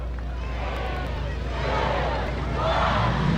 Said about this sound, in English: as they start their engines